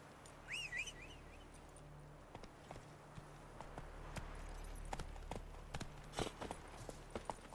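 Geralt's horse Roach clip-clopping along in The Witcher 3, faint quick hoofbeats on the ground with a brief bird whistle early on and soft ambient outdoor noise.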